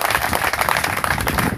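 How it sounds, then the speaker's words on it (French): An indoor audience applauds steadily at a lecture, a dense, continuous wash of many hands clapping at close to moderate distance with no break. "applaudissez donc comme vous avez entendu"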